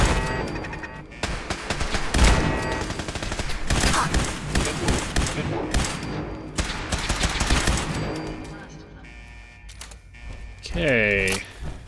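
Gunfire in the video game Fallout 4, with rapid bursts and single shots crackling densely through most of the stretch, followed by a sweeping electronic whine near the end, loud and close with no talking over it.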